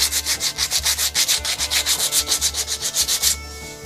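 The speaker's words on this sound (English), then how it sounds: "We'll take some this sandpaper, make sure this is all smooth." Sandpaper rubbed back and forth over a metal part of a Johnson TD 20 outboard's lower unit, fast regular scratchy strokes, close and loud, stopping near the end.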